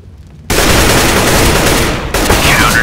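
Sustained rapid automatic gunfire in the video game Counter-Strike: Global Offensive, on the Inferno map, loud and dense, bursting in after a quiet half-second and continuing without pause, with a brief dip near the end.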